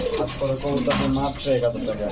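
Pigeons coo in a bird market, their low repeated cooing close and steady amid crowd noise.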